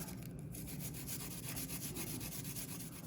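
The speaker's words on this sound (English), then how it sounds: "Then taking this microplane and" Something being grated on a microplane over a sauce of fresh tomatoes, a fast rhythmic rasping scrape repeated steadily at close range.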